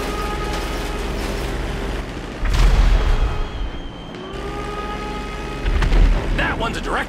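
Bomb explosions striking a rig in GTA V, two heavy booms a few seconds apart with deep rumbling tails over droning engine noise.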